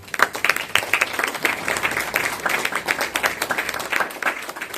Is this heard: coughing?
no